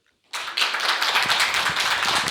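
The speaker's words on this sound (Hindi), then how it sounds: "अगर आप लोग सभी खुश हैं तो मैं कहूँगा कि आप एक बार ताली बजाएंगे" An audience at a farmers' event bursts into sustained, dense applause after a moment of silence, many hands clapping together at close range.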